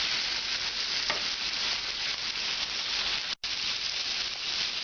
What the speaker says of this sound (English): If you overcrowd the pan, the meat steams instead of browning.